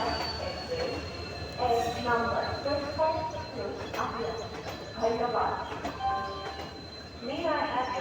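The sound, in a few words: Rangiya Express train running on rails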